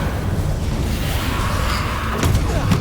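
Confringo fire spell cast during combat in Hogwarts Legacy, a blast over a continuous rumble of loud game noise, with sharp impacts near the end.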